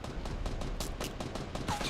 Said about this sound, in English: And just look how these blue pistols just destroy this structure.